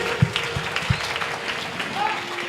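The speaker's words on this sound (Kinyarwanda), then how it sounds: "Tugukomeye amashyi ko duhagaze hano uyu munsi." A church congregation at an Alarm Ministries worship service in Bujumbura claps in a few sharp, scattered bursts under a speaking voice, the claps close and brief.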